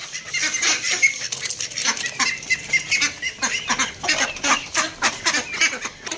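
A noisy flock of ducks, excited at the sight of a food bowl, quacks and honks continuously at close range, overlapping calls in rapid, excited bursts.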